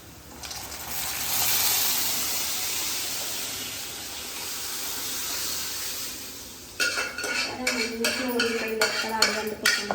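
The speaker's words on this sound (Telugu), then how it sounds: "ఇప్పుడు పాపం నీళ్ళ వేస్తున్నాను" Water is poured into a pot of hot tempering, giving a loud broad hissing gush of steam that settles into an even roar, then turns to sharp bubbling crackles and clatter near the end.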